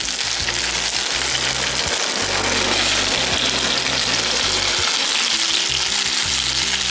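Boiled udon noodles frying in a pan with Fujinomiya yakisoba ingredients: a loud, continuous close-up sizzle holds steadily throughout, with no speech.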